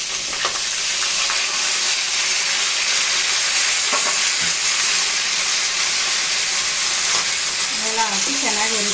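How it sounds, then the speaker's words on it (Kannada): Tomato, onion and garlic fry in a pan for a tomato chutney, giving a loud, steady sizzle and hiss throughout, with a faint voice briefly near the end. "ಈಗ ನೋಡಿ, ಟೊಮಾಟೊನ, ಈರುಳ್ಳಿ, ಬೆಳ್ಳುಳ್ಳಿ ಎಲ್ಲ ಚೆನ್ನಾಗಿ ಫ್ರೈ ಆಗದೆ"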